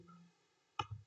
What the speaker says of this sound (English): We are clicking upload button.